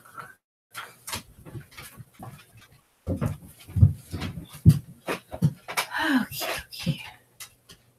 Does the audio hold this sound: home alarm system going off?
no